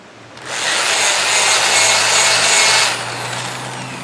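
Wood being sanded on a spinning lathe gives a loud, close, steady broadband hiss that starts abruptly, holds for about two and a half seconds, then drops back to a low hum.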